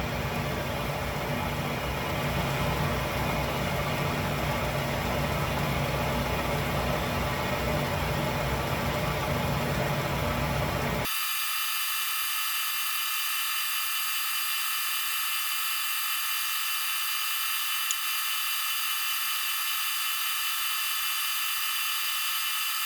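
A small end mill cuts metal on an Atlas 10-D lathe, giving a steady, dense whirring grind for about eleven seconds before it abruptly stops, leaving only a faint high machine hum.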